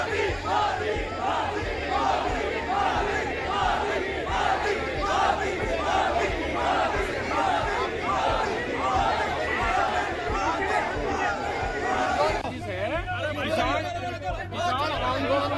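Dense crowd at a farmers' rally, a steady roar of many voices with shouting and rhythmic chanting, loud and close throughout, with speech mixed in.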